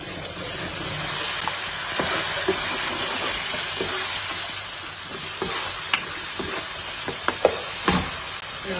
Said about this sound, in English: So now add tamarind juice.